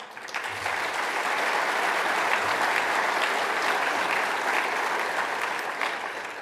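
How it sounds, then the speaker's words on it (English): Applause from a large audience of partners at a business luncheon on Toronto Pearson airport, loud and continuous clapping that stays even throughout. "please give yourselves, and may we give you, a round of applause"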